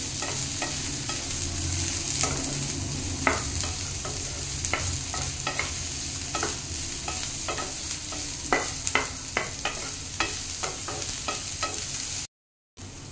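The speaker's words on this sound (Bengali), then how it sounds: "এবার আমার পেঁয়াজটা ভাজা ভাজা হয়ে গেছে" Onion frying in a pan for an egg chop sizzles steadily while a utensil stirs and scrapes it in irregular, sharp strokes. The sound is close and continuous, with no talking.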